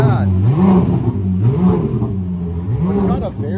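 A car engine with stock exhaust is revved repeatedly after a cold start, three rising-and-falling vroom cycles with a deep, throaty tone, loud and close.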